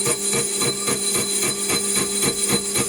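Lathe turning a Stuart S50 model engine flywheel slowly at 230 RPM, a steady machine hum with tonal whine and a regular rhythmic scraping pulse from the cut, close and continuous.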